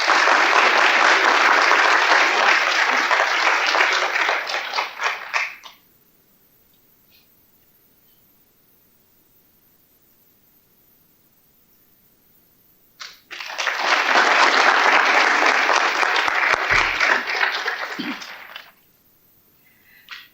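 An awards ceremony audience claps for honorees in two loud, close bursts of about five seconds each, with a near-silent gap between them.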